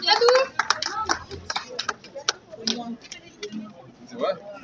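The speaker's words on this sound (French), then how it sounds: "Applaudissez la sœur, s'il vous plaît." Audience applause at a French-speaking gathering, a burst of scattered handclaps that fades over a few seconds, mixed with voices talking in the room.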